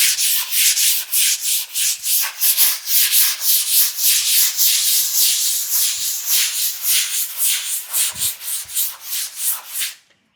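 Hand tool scraping ridged grooves into fresh wall plaster, a steady run of close, rhythmic rasping strokes that continues without pause and stops abruptly at the end, with no talking.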